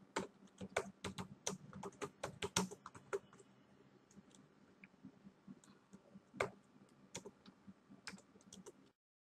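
Someone types on a computer keyboard in irregular bursts of sharp, close key clicks, with pauses between runs, in a quiet room.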